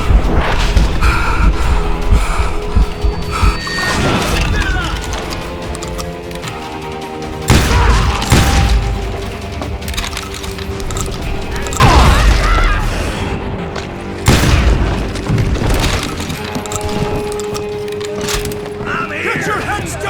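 Shotgun blasts and rapid gunfire in a video game shootout, with heavy booming bursts recurring every few seconds over a constant loud battle din and rattling clatter; a voice is heard among the noise.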